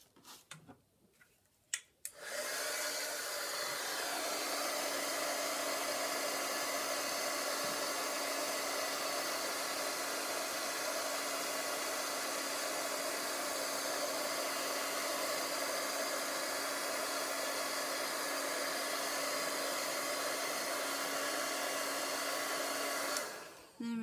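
An embossing heat tool blows in a steady, loud whirring hiss for about twenty seconds while heating temporary ink, switching on after a few soft clicks and cutting off at the end.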